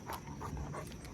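A pregnant guard dog pants steadily outdoors in the cool early morning, quick soft rhythmic breaths fairly close over a low background hum.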